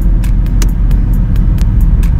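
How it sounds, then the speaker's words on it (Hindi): A Tata Tiago XZ Plus BS6 hatchback from 2021 idling just after starting, giving a loud steady low rumble with faint regular ticking on top, close by and without talk. "गाड़ी स्टार्ट हो गई है, आप लोग देख सकते हैं गाड़ी ऑन है"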